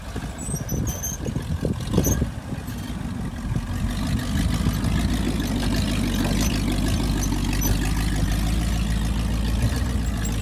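A 1972 Jeep CJ5 engine idling at low RPM off-road, with a steady, deep, throbbing rumble that grows slightly fuller partway through and holds steady, close and loud.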